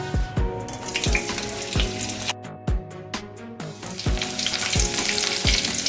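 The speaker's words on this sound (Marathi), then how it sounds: "तर आता आपण मिरची तळून घेऊया मिरची टाकूया" Green chilies fry in hot oil for onion bhaji, making a constant loud sizzle and bubbling with repeated sharp clinks and knocks from stirring or handling, close to the pan.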